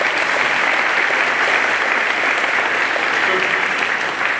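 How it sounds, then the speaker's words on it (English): Sustained applause from a conference audience for school-district finalists, dense steady clapping at an even level throughout with no talk over it. "give these guys a round of applause"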